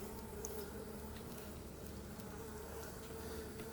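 Steady, faint buzzing of many honeybees swarming around a Flow Hive during inspection, a continuous hum with no voices.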